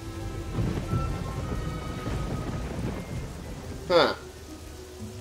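Steady rain with rolling thunder in the fantasy video game Fable Anniversary, a low continuous rumble and patter, with a brief louder crack near the end and a single short spoken interjection.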